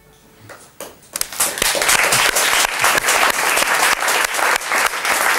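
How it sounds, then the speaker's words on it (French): Students clap with enthusiasm, the applause swelling quickly from a few scattered claps into a loud, dense, sustained ovation that holds steady to the end. "Elisa, vous nous dites qui applaudissait là avec un enthousiasme"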